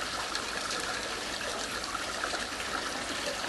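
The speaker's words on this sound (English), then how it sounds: "It's just overflowing." Water steadily overflowing in a backyard aquaponics setup with no siphon or bell valve, a constant, close trickling and splashing wash that holds at an even level throughout.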